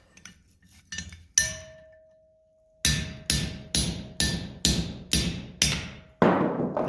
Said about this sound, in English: If I want to use the chisel to cut a piece off, I can cut it most way on the anvil face